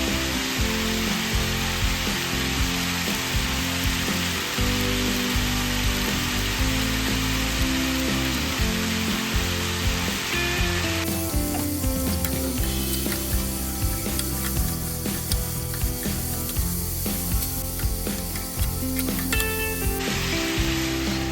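Broad bean pieces (goruchikkudu/chowdekaya) with onion, tomato and turmeric fry in a pan, giving a steady, close hiss and sizzle throughout with a brighter burst of spitting midway; no talking.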